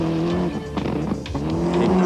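A Group A rally car at the 1996 City of Mount Gambier Rally works its turbo engine hard, revving with quick throttle lifts and gear changes, loud and close in a short burst.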